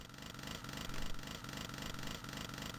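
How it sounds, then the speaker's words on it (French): In the Atari Jaguar version of DOOM, a chainsaw revs in a continuous buzzing drone. It pulses with a quick, regular rhythm and stays loud and steady throughout with no voices over it. "Je sens presque le kérosène de la tronçonneuse, tellement le bruit est bien fait."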